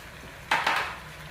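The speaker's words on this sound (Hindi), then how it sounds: "तो अब हम इसमें ऐड करेंगे ग्रीन मिर्च, और ऐड करेंगे इसमें लहसुन, और ऐड करेंगे नमक हस्बे ज़ायक़ा।" Green chillies, garlic and salt go into a cooking pan of restaurant-style mixed vegetables: two quick, close metallic clatters of a utensil against the pan, with a faint sizzle fading behind them.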